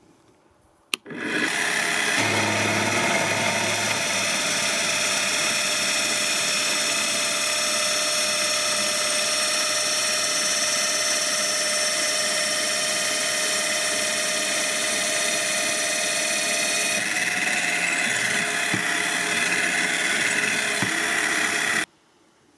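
Lidl Parkside PTBMOD 710 B2 drill press starting with a click, then running at a steady high whine for about twenty seconds before cutting off, close and alone.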